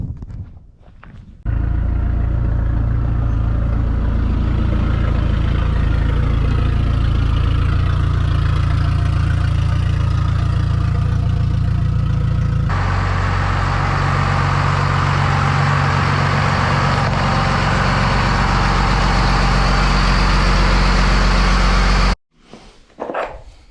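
An old Toyota engine cranks and fires up, then idles with a loud steady rumble that roughens and grows louder partway through before cutting off abruptly.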